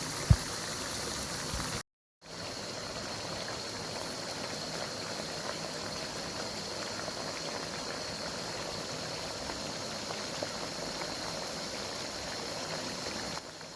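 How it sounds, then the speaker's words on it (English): Chopped tomatoes fry in a pan with a steady, even bubbling sizzle that runs unbroken after a brief drop-out near the start, moderately close and otherwise quiet. "add chopped tomatoes and fry for a while"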